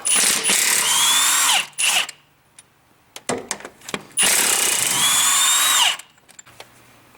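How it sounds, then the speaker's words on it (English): Power tool removing the transmission top mount bolts on a Nissan NV200 van during a CVT replacement, two loud sustained whirring bursts of about two seconds each, separated by clanking tool handling. "So now let's take off the top mount, let that transmission start dropping. 2 bolts, and gravity will take over."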